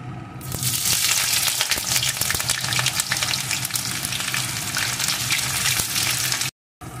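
Chopped onion frying in hot oil with dried red chillies in a pan while making a mustard crab curry, a loud, steady close sizzle running throughout with light stirring scrapes and a brief dropout near the end.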